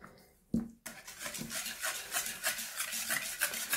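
Fromage blanc and yogurt stirred together in a bowl for a cheesecake batter, a steady close scraping and rubbing of utensil against the bowl that starts after a brief knock and continues in uneven strokes.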